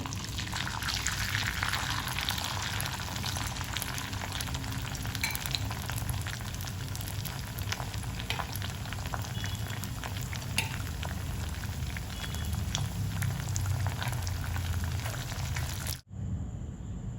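Cauliflower pieces deep-frying in hot oil, a dense continuous sizzle with crackling bubbles at close range, steady throughout with no talk, ending in a brief dip.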